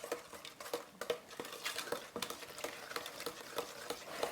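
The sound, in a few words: spoon stirring and blending ingredients in a bowl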